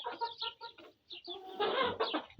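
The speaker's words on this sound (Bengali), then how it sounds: "আমার মুরগিগুলো সব ছেড়ে দিছি বাইরে।" Several chickens let loose outdoors after a storm cluck and chatter in quick overlapping bursts, fairly close and moderately loud, with no talk over them.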